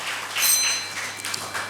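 Audience applause at an awards ceremony honouring high-scoring students, a brief burst of dense hand clapping from a crowd, steady and moderately loud without talk.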